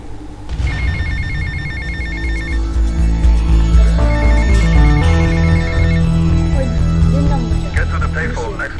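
A payphone rings in GTA Vice City with a repeated electronic trill, loud and close, over a steady game soundtrack. A voice speaks partway through.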